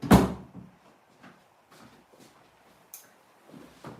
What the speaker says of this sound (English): I'm going to shut the door to the studio.